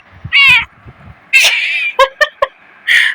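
A cat meows loudly and close by: a drawn-out meow, then another long cry, followed by several quick chirping calls and a final meow, with quiet between them.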